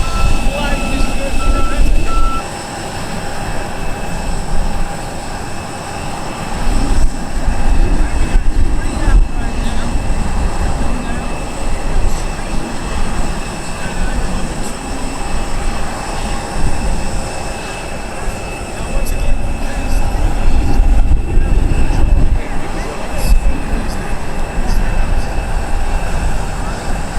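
A large aircraft lands at an outdoor county airshow, its engines roaring loud and steady close by with a high whine riding on top, and spectators can be heard talking.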